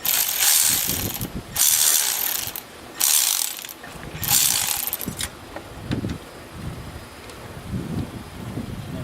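A ratchet backs the nut off a boot clamp on a hot-side charge air cooler tube of a 6.0 liter Powerstroke diesel, giving loud, close bursts of rapid clicking that pause between strokes, then quieter handling noises.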